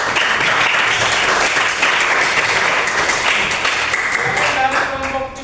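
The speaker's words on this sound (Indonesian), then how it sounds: "Beri tepuk tangan buat" Students in a classroom give a presentation group a loud, dense round of applause that holds steady before tapering near the end, with a few faint voices mixed in.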